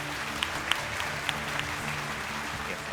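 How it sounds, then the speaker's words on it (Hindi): An audience applauds to welcome a guest at a discussion event on Gen-Z in Pakistan, a continuous steady clapping with a few sharper individual claps standing out. "मैं दावत देना चाहूँगा आप सबकी भरपूर तालियों में"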